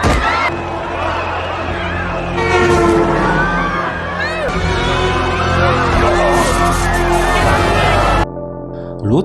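A train rushes through a railway tunnel in a film scene, a loud sustained rumble with screeching, horn-like tones and clatter that drops away abruptly near the end.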